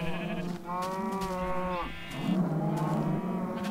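Video game farm animals in Minecraft pens bleat and moo, with a sheep bleat followed by a low cow moo, close and fairly loud.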